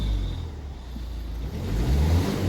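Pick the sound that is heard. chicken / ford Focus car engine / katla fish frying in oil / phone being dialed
ford Focus car engine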